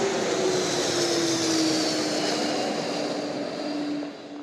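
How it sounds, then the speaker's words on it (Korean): A low-flying airplane passing close overhead in snowy Iceland gives a steady, loud engine drone with a sustained hum that holds through the whole stretch and eases slightly near the end. "야, 비행기가 이렇게 낮게 나릅니다."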